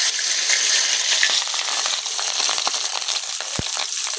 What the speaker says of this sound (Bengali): তো এই মাছ ভাজার তেলের মধ্যেই কিন্তু আমি ডিমটা দিয়ে দিতেছি।